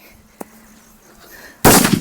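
A Diwali paper firecracker bursts with a loud, sharp blast near the end, after a quiet stretch with one small earlier pop; no talking.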